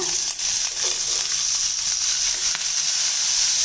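Steady, loud sizzling of chopped veld grape frying in hot sesame oil, with occasional stirring scrapes and crackles throughout.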